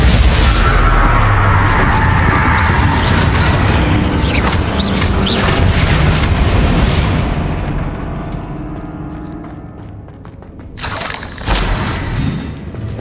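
Bombarda blast spell in Hogwarts Legacy, a heavy booming explosion with shattering, rumbling debris that slowly fades, followed by a sharp second burst and settling crackles.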